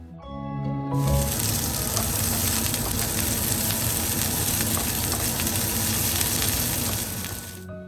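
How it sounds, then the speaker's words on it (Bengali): Garlic and large-cut onions sizzle steadily in a hot pan, a loud continuous frying hiss that starts abruptly after a second and holds through to the end. "রসুনটা ভাজা হয়ে গেলে একটু বড় করে কেটে রাখা পেঁয়াজগুলো দিয়ে দেব"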